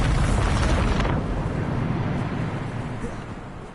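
A big Bombarda spell blast in a video game erupts with a loud rumbling burst, then decays into a long fading roar over several seconds.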